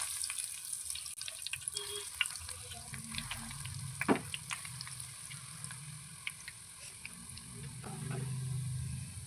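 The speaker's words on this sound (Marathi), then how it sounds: "हे कटलेट आपण असं छान तळून घेऊया लो फ्लेमवरती" Potato bread cutlets frying in hot oil in a pan on low flame, a faint low sizzle with scattered small crackles and a brief clatter, no talk.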